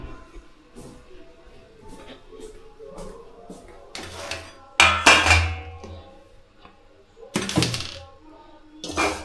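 A plate is handled and set down during a home meal of rice, giving a few clattering knocks and thuds, with several louder bursts of contact scattered among quieter rustling.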